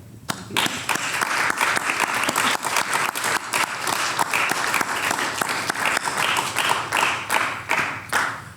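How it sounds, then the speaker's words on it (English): An audience applauds Alex and John at the close of a music psychology research event, a dense, lively burst of clapping that holds steady throughout with sharp individual claps standing out. "a final word of thanks and applause for Alex and John"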